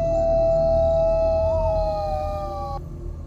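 A wolf-like beast near Pavagada, Karnataka lets out one loud, sustained howl up close. The howl holds steady, bends slightly in pitch midway, then cuts off and leaves a faint background.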